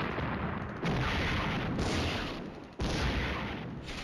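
Mortar rounds falling in the wargame Flashpoint Campaigns Red Storm, heavy muffled rumbling blasts overlapping in a dense, loud roar with a brief drop before another surge.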